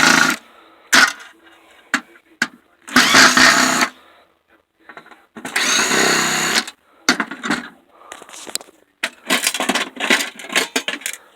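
A power drill backs screws out of a metal panel on a Sanyo FW32D06FB TV in short whirring bursts, interspersed with clicks and metallic clatter of screws and parts, close up.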